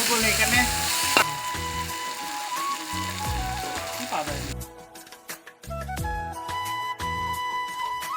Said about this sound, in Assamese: অলপ পানী ছটিয়াই ভাজি আছে